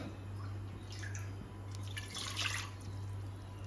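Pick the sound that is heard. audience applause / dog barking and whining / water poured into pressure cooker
water poured into pressure cooker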